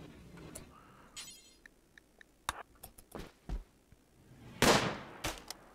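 Gunfire in the RimWorld video game, a single sharp, loud shot standing out near the end among scattered soft clicks and ticks of game sounds, with no talking.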